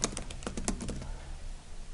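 Keys on a computer keyboard clack in a quick, uneven burst of light taps that fades out after about a second, faint and close.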